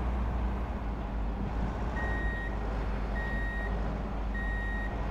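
A truck in the Xbox game Truck and Logistics Simulator reverses to attach a trailer: three evenly spaced reversing beeps sound over a steady low engine rumble.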